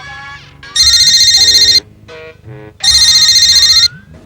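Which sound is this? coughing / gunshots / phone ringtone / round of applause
phone ringtone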